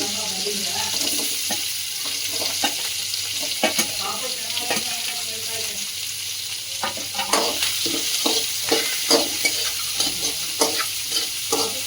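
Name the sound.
onions frying in a pan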